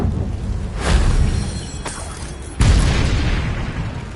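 Confringo fire spell blasts in Hogwarts Legacy, two booming impacts roughly a second and a half apart, the second sharper and louder, over a dense rumbling game soundscape.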